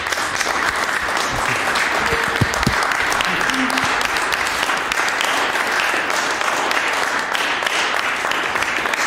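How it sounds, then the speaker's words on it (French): A small audience of about fifteen people applauding in a church after a guitarist's concert performance, steady continuous clapping with a few voices underneath. "Les quelques personnes qui sont là, 15 personnes en fait au total, vont vous applaudir"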